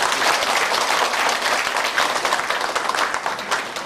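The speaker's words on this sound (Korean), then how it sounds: "뜨거운 박수를 보내고" Loud, dense applause from a large crowd at an international arts festival reception fills the space, steady throughout without any voices standing out.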